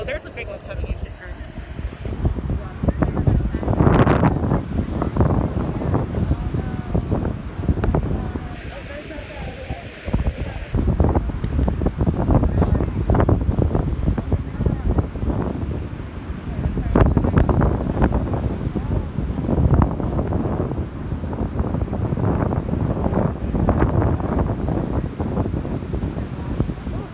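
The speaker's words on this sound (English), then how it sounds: "I've been like mesmerized by the waves" Pacific Ocean waves wash in at Pacifica Beach under heavy wind buffeting the microphone, with surges of breaking surf rising and falling throughout.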